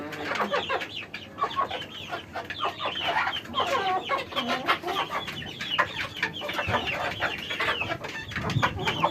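Many chickens cluck continuously in a village yard, a dense, lively chorus of close and overlapping calls that carries on for about nine seconds.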